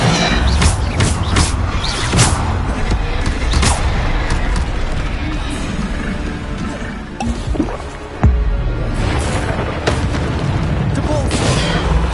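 Bombarda explosion spells from Hogwarts Legacy combat go off as repeated booming blasts, layered over dense, continuous battle effects that barely pause near the middle before resuming loudly.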